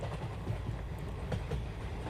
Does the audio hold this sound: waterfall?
no